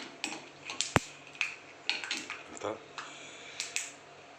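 Spoon clinking and scraping in a pan while stirring upma, with garlic and chili in a home kitchen, heard as light, irregular metallic taps and one sharp clack.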